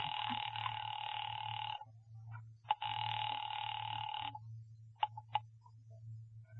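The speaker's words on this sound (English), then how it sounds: "Ringing the police department." A telephone rings in an old radio drama, two long electric bell rings separated by a pause, followed by a few short clicks like a receiver or dial, heard close over a low steady hum.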